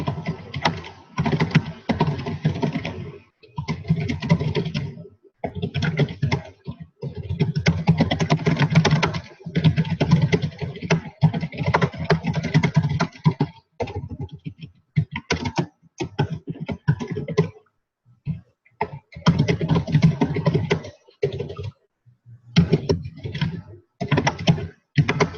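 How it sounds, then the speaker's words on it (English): Fast, steady typing on a computer keyboard while composing a message, close and fairly loud, running in long bursts broken by brief pauses, with no voices. "Now I can see what I'm typing."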